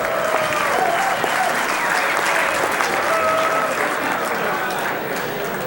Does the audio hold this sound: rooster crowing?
no